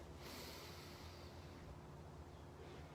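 One deep breath drawn in through the nose, soft and close, a brief airy rush early on that fades away against a faint, steady background hum.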